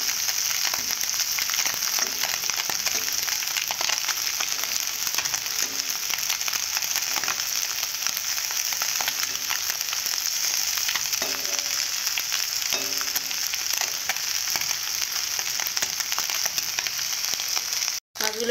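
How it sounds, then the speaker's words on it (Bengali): Fish frying in oil until browned, a dense, steady sizzle that hisses continuously at close range with faint clatter underneath, cutting off abruptly at the very end. "লাল লাল করে ভালো করে ভেজে নিতে"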